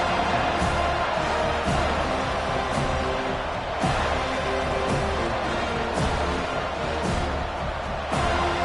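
A football stadium crowd at a Michigan game roars steadily as a broad, continuous wash of cheering. The noise holds at a high level with no breaks and a few sharper swells.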